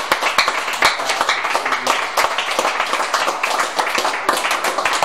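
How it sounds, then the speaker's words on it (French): A church congregation claps for the Lord Jesus, quick steady hand claps that go on the whole time and fill the room, with voices faint under them. "Donnez une acclamation au Seigneur Jésus"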